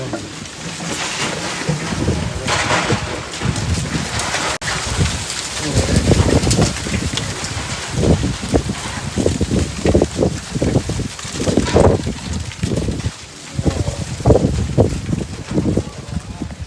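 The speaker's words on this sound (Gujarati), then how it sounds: "કેટલું પવન આવી ગયો વાવાઝોડું એટલો આવી ગયો" A strong windstorm roars outdoors as a steady, loud, gusting rush of noise, with people talking over it throughout.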